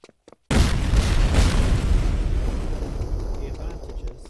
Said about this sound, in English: the secondary fire is a grenade launcher